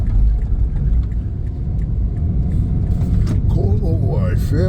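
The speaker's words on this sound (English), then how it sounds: "Watch for traffic." Road traffic near the blowholes in Tonga, a steady close rumble of cars passing, with a voice talking toward the end.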